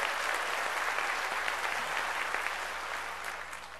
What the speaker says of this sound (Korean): 박수로 하나님께 영광 돌려야지